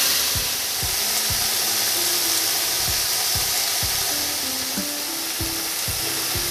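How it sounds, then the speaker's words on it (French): Fresh tomato fries in a hot pan for Indian vegetarian fried rice, a steady close sizzle running throughout with soft scraping and knocking from a stirring spoon at irregular intervals. "La tomate fraîche. Je le mélange bien."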